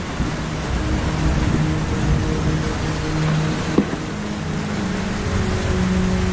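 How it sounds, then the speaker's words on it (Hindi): Heavy rain falls steadily in a jungle, a dense constant hiss with faint low tones and a brief sharp knock midway, moderately loud and with no voices. "पिछले 7 दिनों से जंगल में बहुत तेज बारिश हो रही है।"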